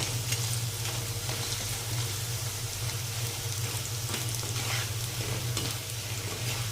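Steady, loud sizzling of raw banana frying with poppy seeds in a pan on a gas stove, constant crackle and hiss, occasional stirring scrapes, close by, no voices.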